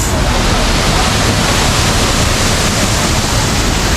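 Bolinao Falls 1 in Pangasinan pours in a steady, loud roar of rushing water, a dense unbroken wash that stays constant throughout with no voices.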